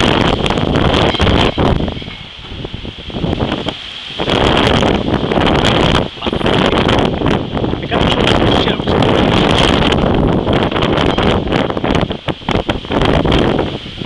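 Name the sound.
strong wind gusts in storm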